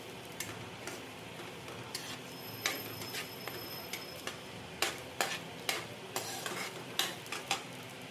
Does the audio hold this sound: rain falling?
no